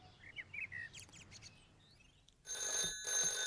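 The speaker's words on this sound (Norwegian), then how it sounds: "Dagen etter ringte telefonen hjemme hos Pat." A telephone rings at home in a village in the Postmann Pat animation, a bright trilling bell that starts after a stretch of chirping birdsong and rings in two loud bursts.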